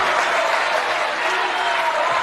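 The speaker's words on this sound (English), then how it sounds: "Every Titan fan in applause." Volleyball fans in a gym applaud steadily during a women's tournament match between Illinois Wesleyan and UW-Oshkosh. The clapping is a dense, continuous wash from many hands, loud and unbroken throughout.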